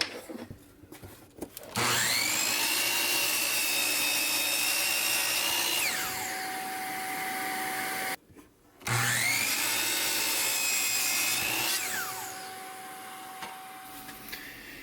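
A power saw cuts slots in a wooden box for chevron spline joints in two long passes, each spinning up to a loud, steady close whine and winding down, with a short quiet gap between them.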